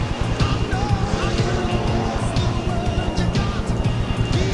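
Formula 500 speedway race cars, including one fitted with a 360 Chrysler engine, thunder past on a dirt oval at Speedway City, Adelaide, a loud, steady engine roar with pulsing harmonics, with a commentator talking over it.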